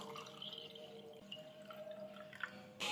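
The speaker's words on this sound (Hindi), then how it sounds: "अब हम इसमें सादा पानी डाल देंगे।" Plain water trickles into a glass of jaggery (gur) sharbat, a faint, soft pouring and dripping that swells into a louder splashing gush near the end.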